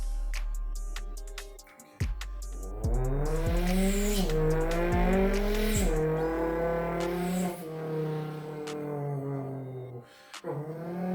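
A racing car sound effect with a revving engine climbing through rising gear-like sweeps, sharp squeals and clicks, loud and close for several seconds before cutting out and briefly restarting.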